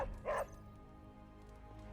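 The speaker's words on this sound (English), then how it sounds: "There is my ferocious Charlie girl." A hellhound dog in the video game Marvel's Midnight Suns gives a single short, fairly faint bark over a steady low game ambience.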